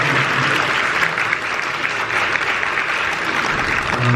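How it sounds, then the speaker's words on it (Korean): A church congregation applauding at a Korean church council installation service in New York: sustained, dense clapping from many hands that holds steady throughout, moderately close, with no speech over it. "좀 박수 한번 해드리고 싶어요"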